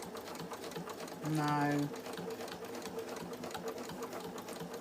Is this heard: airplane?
no